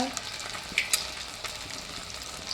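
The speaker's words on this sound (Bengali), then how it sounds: "মাছটা ভাজি, তারপরে আবার দেখাচ্ছি" Spice-coated fish, rubbed with a paste of garlic, green chilli, chilli powder, salt, ginger, turmeric, rice flour and a little flour, frying in a pan with a steady soft sizzle and a couple of sharp spits, no talk.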